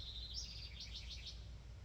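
Outdoors, a bird gives a short run of faint, high chirps over a low background rumble. No talk.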